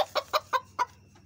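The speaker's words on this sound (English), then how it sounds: "You are the ugliest little chicken I've ever seen in my life." A small young chicken clucks up close, five short, sharp clucks in quick succession followed by quiet.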